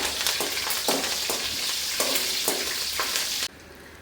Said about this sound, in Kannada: ಇವಾಗ ಇದಕ್ಕೆ ಸಾಸಿವೆ ಜೀರಿಗೆ ಹಾಕ್ಕೊಟ್ಟಾದ್ಮೇಲೆ ಬ್ಯಾಡ್ಗೆ ಮೆಣಸಿನ್ಕಾಯಿ ಒಣಗಿದ ಮೆಣಸಿನ್ಕಾಯಿ ಮತ್ತು ಕರಿಬೇವು ಸ್ವಲ್ಪ ಮೀಡಿಯಮ್ ಉರಿ ಮಾಡಿ ಫ್ರೈ ಮಾಡ್ಕೋಬೇಕು